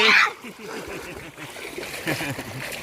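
River water splashes in a sharp burst at the start, followed by lighter splashing and dribbling while voices talk over it.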